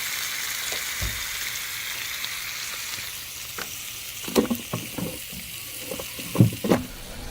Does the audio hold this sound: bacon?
yes